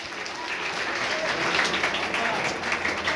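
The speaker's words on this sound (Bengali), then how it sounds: "জোরে করতালি" An audience at a school and college scholarship ceremony applauding, a dense, sustained wash of clapping that holds steady and fairly loud for a few seconds.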